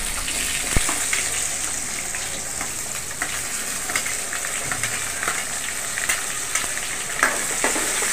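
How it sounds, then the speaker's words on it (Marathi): Onions tossed into a pan with toasted cumin seeds and curry leaves, giving a loud, continuous hissing sizzle with scattered crackles and occasional stirring clicks throughout; no voices. "त्याच्याबरोबर आपण कांदे घालणार आहे."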